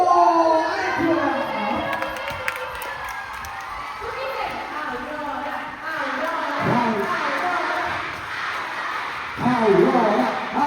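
A live audience at a concert cheers and claps for Aurora's team, a busy crowd wash with children's shouts rising over a presenter's voice and swelling again near the end.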